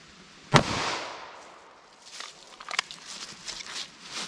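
A single sharp 9mm pistol shot fired into four layers of denim over quarter-inch MDF, a loud crack followed by a short decaying tail and faint rustling afterward.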